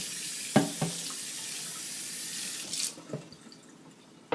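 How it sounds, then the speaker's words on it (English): Warm tap water runs at a kitchen sink while a wooden cutting board is rinsed, a steady close splashing stream with a few clunks and knocks of the board, the flow easing off partway through. "I'll just bring it over to the sink and rinse it off with some warm water"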